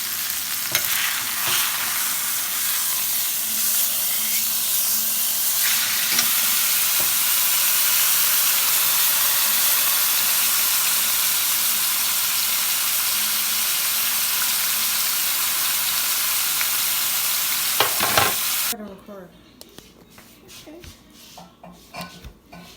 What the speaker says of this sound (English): that's been searing for about 3 minutes